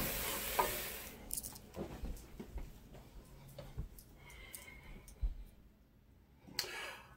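Food cooking in a pan on a gas range gives a low, steady sizzle, with scattered stirring clicks and scrapes and a few louder knocks against the pan. Brief voices come through faintly.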